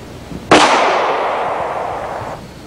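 North American Arms .22 Magnum mini revolver fires a single sharp, loud shot, its crack trailing off into a long echoing decay of about two seconds.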